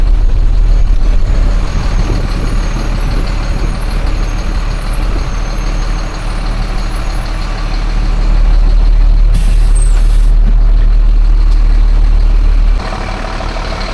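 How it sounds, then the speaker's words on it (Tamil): A Tiruchendur–Sathyamangalam travels bus pulls into Mettupalayam bus stand, its engine rumbling loudly and steadily with a hiss of air brakes near the end and the engine note dropping as it settles. "மேட்டுப்பாளையம் பஸ் ஸ்டாண்டு வண்டி ரீச் ஆகிடுச்சுங்க"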